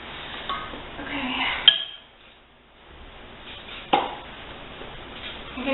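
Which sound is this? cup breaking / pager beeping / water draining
cup breaking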